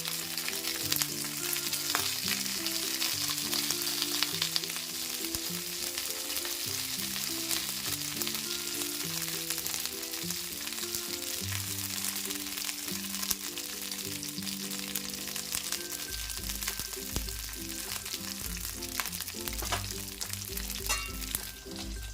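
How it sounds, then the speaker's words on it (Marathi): Stuffed green chillies fry in a covered pan over low heat, giving a steady, close sizzle that continues without a break under a faint background tonal hum. "आता आपण झाकण ठेवून मंद आचेवर छान भाजून घेऊया"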